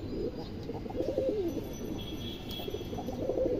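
Several soft pigeon coos, one of them a tagged 2021 bird, sound close and fairly faint in a steady rhythm over a low background rumble, with no talking.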